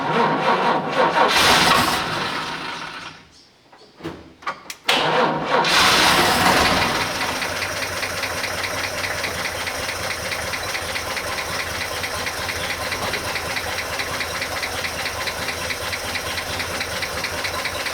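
A 1941 Chevy engine cranks and sputters briefly, dies for a moment, then catches and settles into a loud, steady, rhythmic idle, heard close up with no speech.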